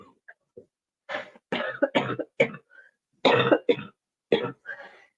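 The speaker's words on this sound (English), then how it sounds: "I do have the last remnants of a cold going on with a cough" A string of harsh coughs from a person with the tail end of a cold, in close succession, loud and near, with a few short throat-clearing sounds in between.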